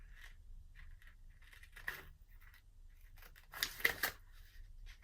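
Scissors trim a planner sticker in a quiet room, several soft snips and paper rustles with a louder cluster of cuts near the end, close and faint.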